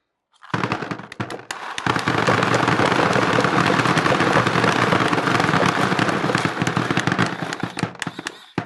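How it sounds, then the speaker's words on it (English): An Empire Halo Too paintball hopper with a built-in Rip Drive feeds a whole load of paintballs, a loud, dense, continuous clattering rattle that runs for several seconds before stopping abruptly. "As you can see, it dumps a whole loader a couple seconds right there, and we're done."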